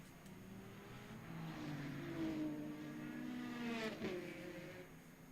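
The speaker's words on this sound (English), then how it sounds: "It's weird hearing the Corvette as a V6 though" A Corvette race car with a V6 engine in a racing video game at Sebring in light rain, heard at a distance as it rises in pitch, passes closer around the middle and then fades, with no talk.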